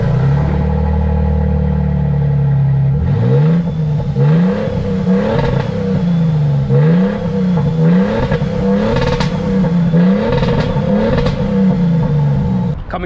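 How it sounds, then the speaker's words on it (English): A 2023 Toyota Sequoia TRD Pro with its TRD exhaust starts at a steady idle, then is revved over and over in rising and falling surges. The loud, deep exhaust note sounds close and carries no talk. "I really love the exhaust, the TRD exhaust. It makes a menacing sound."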